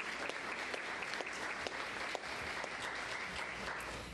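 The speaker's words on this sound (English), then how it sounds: "let's give our sponsors and donors a round of applause" Audience applause at an adult spelling bee event, a steady, even wash of many hands clapping at moderate volume, continuous from start to finish with a few sharper individual claps.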